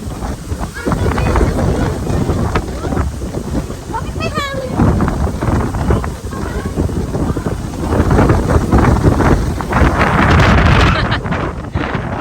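Strong, cold wind roars and buffets the microphone throughout on a sunny day in Taiwan, with muffled talk underneath and gusts swelling louder toward the end.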